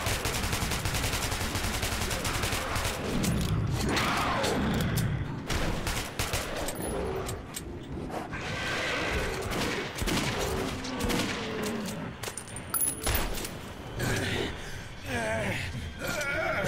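Sustained gunfire in the Metro video game, dense rapid bursts and machine-gun rattle continuing throughout, with a player's voice, gasps and groans heard over the shooting.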